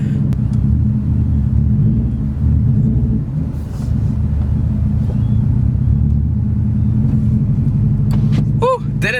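A 2018 Subaru STI's turbo engine rumbles steadily and loudly up close as the car pulls away, a constant low drone held throughout with no clear revving peaks.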